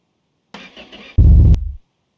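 A newly built I6R engine in a home garage, with no pedals or seat fitted yet, cranks in a short burst and then gives a louder, low churning rumble before stopping abruptly without catching.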